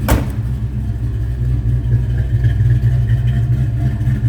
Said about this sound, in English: That 383 rumble, like I said, a little cam to it. Very healthy sounding engine.